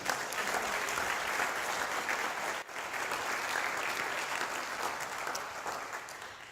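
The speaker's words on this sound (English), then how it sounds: "Another round of applause for Craig." Applause from the audience at a livestreamed research conference after a speaker, a full, sustained round of clapping with a brief dip partway through before it continues at a steady level.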